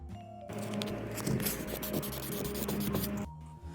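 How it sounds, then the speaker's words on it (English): Sandpaper is rubbed by hand over a tight area of a wooden furniture piece, making a steady gritty scratching and scraping for about three seconds. The rubbing is close and moderately loud against quiet room tone. "I grab some sandpaper and sand it by hand"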